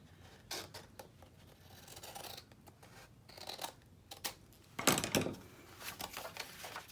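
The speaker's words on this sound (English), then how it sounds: "Get my scissors in there." Scissors snip through oversized book pages in a series of short, crisp cuts and rustles, with a louder cutting burst near the end.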